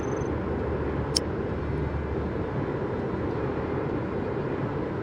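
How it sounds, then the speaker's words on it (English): Spaceship thrusters on maximum override in the Space Engineers game give a steady, loud, broadband roaring rumble that continues unchanged throughout, with a faint click partway through. "That has now turned all of those thrusters on to maximum override."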